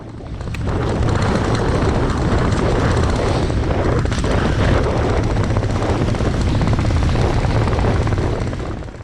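A loud, steady aircraft engine roar with deep rotor-like throbbing holds constant throughout, close and continuous with no voices.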